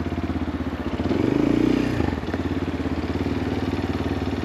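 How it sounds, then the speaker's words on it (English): A 2024 CFMOTO Papio CL motorcycle rides along in first gear, its engine throbbing steadily up close with a brief swell of revs before settling back to an even pulse. "what I'm doing is I'm just riding in first gear"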